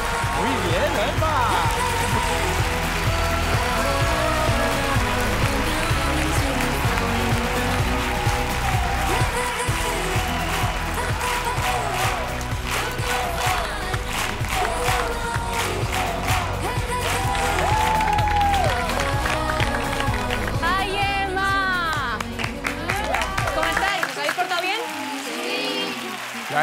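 Audience at a televised children's singing talent show applauding and cheering, a big crowd roar and clapping running under loud music and a host's voice talking over it throughout.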